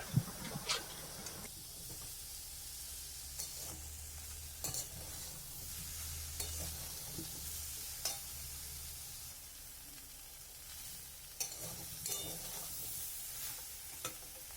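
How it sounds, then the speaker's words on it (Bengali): Soybean curry with spices is stirred in a pan, a faint, even sizzle under repeated scraping and clinking strokes of a spoon spaced through the stretch. "তো এবার নাড়াচাড়া করছি, এটাও আবার 5 মিনিট অবধি নাড়াচাড়া করবো।"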